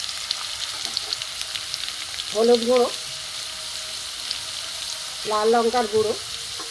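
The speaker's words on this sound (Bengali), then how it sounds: "আলুটা ভাজবো।" Potato pieces fry in oil in a pan with a steady, close sizzle that continues throughout, while someone speaks briefly twice over it.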